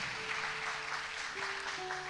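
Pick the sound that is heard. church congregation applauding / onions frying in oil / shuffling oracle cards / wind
church congregation applauding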